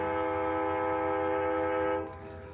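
Sustained train horn blaring loud and steady for about two seconds, its layered tones cutting off abruptly, leaving the rumble of the passing train underneath.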